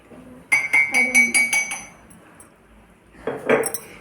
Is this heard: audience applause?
no